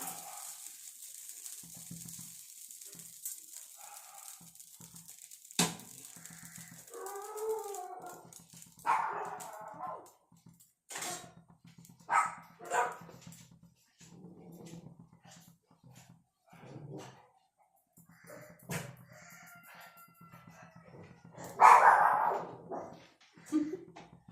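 A dog makes scattered vocal sounds: occasional barks, whimpers and yips separated by quiet pauses, mostly faint with one louder burst near the end.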